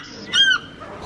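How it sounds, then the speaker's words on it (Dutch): A black bearded bantam chicken gives one loud, brief squawking call that rises and falls, close by and clear against quiet surroundings. "Een zwarte baardkip"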